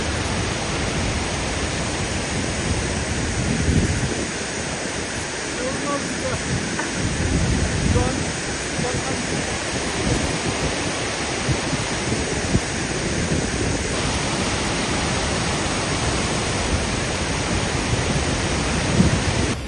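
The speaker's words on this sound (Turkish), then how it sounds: "Çok serin bir şelale karşılıyor sizi." Kuang Si waterfall in the Laos jungle rushes loudly and continuously, a dense, close roar of falling water that fills the whole scene without letup.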